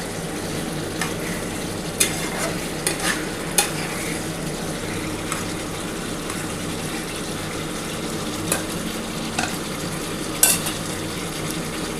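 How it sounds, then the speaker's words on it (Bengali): Water splashes into a pan of rui fish curry masala that is frying with vegetables, a steady broad sizzle with a few sharp clicks of a utensil against the pan, close and fairly loud throughout. "এবার আমি কিন্তু জল দিয়ে দিচ্ছি"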